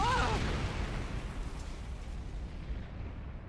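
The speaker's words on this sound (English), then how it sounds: "Okay, exploding corgis." An exploding corgi blasts in The Hundred Line: Last Defense Academy, a single broad boom that opens with a brief whistling burst and then rolls off into a long fading rumble, with a voice faintly underneath.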